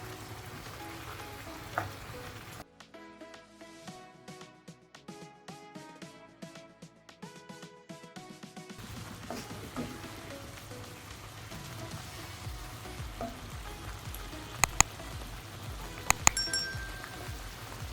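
Tomato puree sizzling in a kadai while cooking kadai paneer, a quiet continuous crackle and hiss with a brief musical passage partway through and a few sharper pops near the end.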